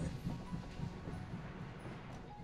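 Low rumbling train ride in the VR video game Hot Dogs, Horseshoes & Hand Grenades, with steady rolling noise and faint clatter, continuous throughout with no voices.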